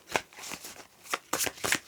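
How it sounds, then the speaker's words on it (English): A new, stiff tarot card deck is shuffled in several quick riffling bursts, close and crisp, with short pauses between them and no speech. "Let me shuffle it a bit off camera"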